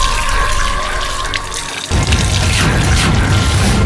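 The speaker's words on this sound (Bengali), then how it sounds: "তুই আমার কল দিয়ে এসে জল খাচ্ছিস?" Water runs from a tap in a village, a loud, steady close splashing that thickens into a heavier gush about halfway through.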